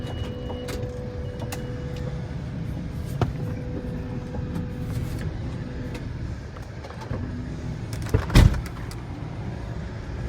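Powered equipment on a 2005 Chrysler Town and Country minivan, a steady low motor hum with faint whirring and intermittent clicks, then a sharp clunk near the end, close by with no talk.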